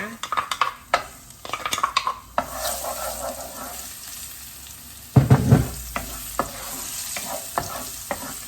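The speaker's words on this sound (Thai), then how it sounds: "เจียวกระเทียมให้เหลืองหอมนะคะ" Pounded garlic sizzles in hot oil in a wok, with scraping and stirring clatter of a utensil, a louder burst of frying midway.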